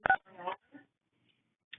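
A short burst of telephone keypad dialing tones comes from an unmuted phone on a conference call, moderately close, then goes quiet with a faint tone near the end.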